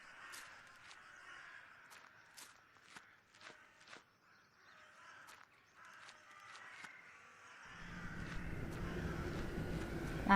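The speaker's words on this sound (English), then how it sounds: "I hear birds still." Birds cawing in the horror adventure game The Last Door, sharp repeated caws spaced through quiet ambience, followed by a rising wash of wind or sea noise toward the end.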